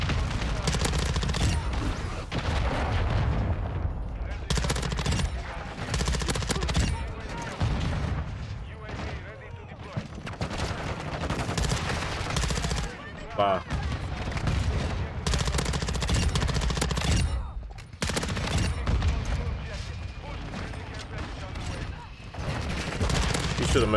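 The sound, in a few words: gunfire from a gun in Modern Warfare 2 video game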